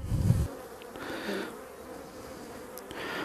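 Honey bees buzzing around an opened hive in mid-November, a soft continuous hum close by with a louder low thump at the start, otherwise faint and steady.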